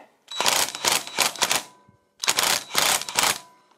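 A pneumatic impact wrench set to maximum power hammers at a tight sprocket nut on a Kawasaki Z1000SX motorcycle in two loud, close bursts, each made of several rattling pulses separated by a short pause.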